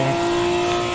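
A drifting car holds a steady, loud engine note at high revs, heard close with a constant tone and no pauses or voices.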